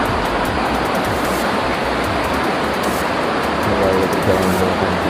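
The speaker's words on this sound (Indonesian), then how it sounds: "air terjun Srambangnya" Rushing water from the Srambang waterfall gives a steady, broadband roar throughout, loud and continuous.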